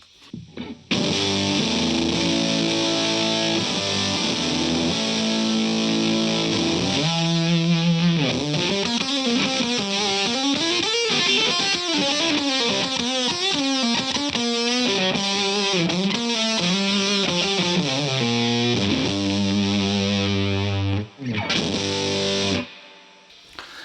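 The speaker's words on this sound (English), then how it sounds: "fuzz facey, big muff kind of combo fuzz here. Big, woolly, sustainy," An electric guitar through a Cachalote Audio 214 fuzz pedal, a Fuzz Face and Big Muff style combo, plays a thick, woolly riff with long sustained notes and bent pitches, loud and continuous, ending on ringing chords.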